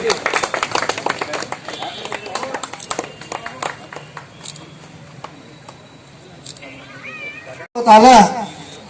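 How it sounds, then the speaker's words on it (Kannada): At a felicitation event for a newly elected municipal council president, an audience claps in a quick scattered patter that fades out, followed by voices and a short louder burst at the end. "ಚಪ್ಪಾಳೆಯನ್ನು ತಟ್ಟಿ ಶುಭ ಕೋರಬೇಕಾಗಿ ವಿನಂತಿ"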